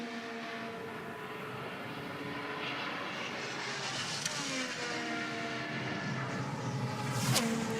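An IndyCar engine at full throttle during Indianapolis 500 practice, a high rising whine that builds steadily as the car pulls down the back straight, heard from a distance with a sharp burst near the end.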